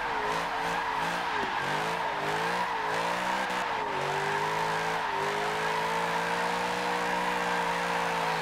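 A car drifts with the handbrake pulled in Forza Motorsport 7, a steady engine drone with wavering pitch that settles into a long sustained tone, loud and continuous with no talking.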